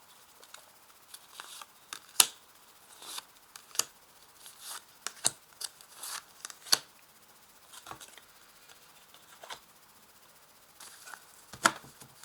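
Tarot cards shuffled and laid out on a table during a reading, a quiet run of soft flicks, slides and sharp little snaps spaced irregularly, heard close up with no talk.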